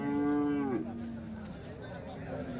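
Young Jersey calves, around six months old, are at the Sunday cattle market in Chintamani. One calf gives a loud, drawn-out moo at the start, followed by a softer lowing call amid the market's background noise.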